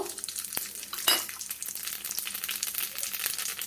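Radhuni seeds tempered in hot oil, a brief close sizzle with a sharp burst of crackling as the spice hits the oil, then a steady fizz.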